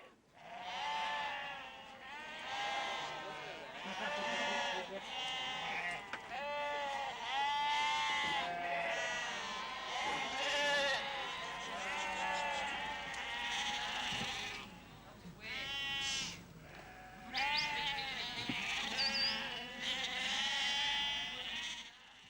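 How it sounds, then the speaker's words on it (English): Many sheep and lambs on a Yorkshire Dales farm bleat loudly and nearly nonstop as lambs are separated from their mothers, a dense overlapping chorus of close, wavering cries. "we were deafened by sheep and discovered a local farmer separating this year's lambs from their mothers. It was a pitiful sound"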